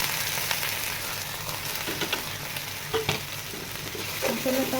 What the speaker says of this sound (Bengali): ভালোভাবে আমি মশলাটাকে কষিয়ে নেব